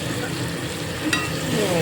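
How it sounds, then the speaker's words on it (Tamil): Mustard seeds and asafoetida frying in a few spoons of hot oil for pumpkin sambar, a close, steady sizzle with scattered small pops and crackles over a continuous hiss. "ரெண்டு மூணு ஸ்பூன் கடுகு பெருங்காயத்தை பொறிச்சு கடுகு வெடிக்கப்படும்"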